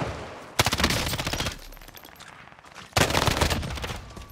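Rapid bursts of weapon fire from a laser gun in Call of Duty: Modern Warfare, two dense volleys of repeated shots a couple of seconds apart, loud and close with a quieter stretch between them.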